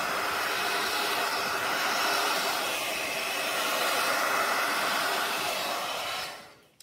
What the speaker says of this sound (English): spread it around with the hairdryer.